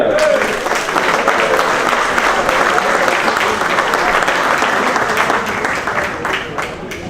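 Sustained applause from the crowd at the Eurocat 2015 sailing prize-giving held with the Yacht Club de Carnac, thick continuous clapping that stays loud for several seconds before easing slightly at the end.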